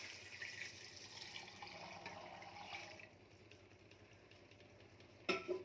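Water runs into a cooking pot of chickpeas on a stovetop, a steady pouring and splashing wash that fades after a few seconds, followed by a brief clink near the end.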